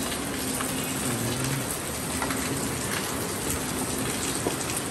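Steady rain hisses continuously at moderate volume, a dense wash of drops pattering on surfaces with no pauses.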